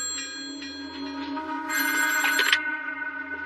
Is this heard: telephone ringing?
yes